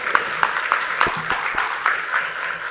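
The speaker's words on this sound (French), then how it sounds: "Applaudissements, s'il vous plaît, pour Haïti Tchaka Danse." A crowd applauds a dance troupe at a World AIDS Day ceremony, steady clapping with periodic sharper accents over about three seconds, fairly loud and close.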